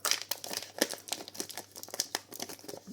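A Kayou Transformers Cybertron collector card booster pack wrapper is torn open by hand, giving close, quiet bursts of crinkling foil and tearing in irregular spurts with no talking.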